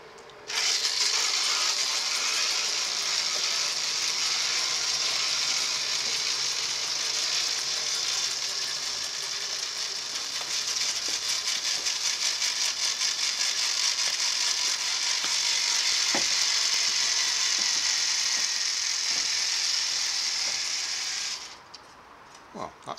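An RC highwire unicycle robot called Grandad travels down a garden, giving a continuous close whirring, ratcheting mechanical hum that runs steadily for about twenty seconds, then cuts off, with no voices.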